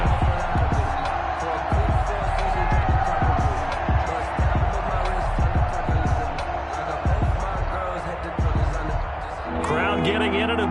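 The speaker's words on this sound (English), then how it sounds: "Crowd getting in it a bit already." Stadium crowd at an American football game keeps up a steady, rumbling roar with scattered thumps and shouts, heard under continuous commentary.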